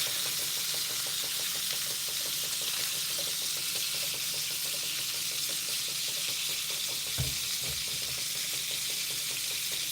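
Onion sizzles in a pan in a home kitchen, a dense steady hiss of frying that stays even throughout, with one brief low knock partway through and no talking.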